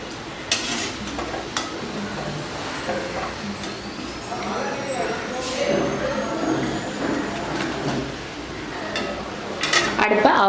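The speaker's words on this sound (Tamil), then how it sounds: "எல்லா ரோலையும் போட்டு பொரிச்சாச்சு." Veg rolls deep fry in hot oil in a home kitchen, giving a steady, soft sizzle with occasional stirring scrapes and clinks of a utensil against the pan.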